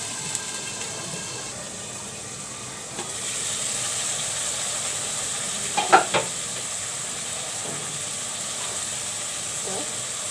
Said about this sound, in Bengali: এখন আমি এগুলো ভালো করে মাছটা ভুনা করে নেব, কষিয়ে নেব।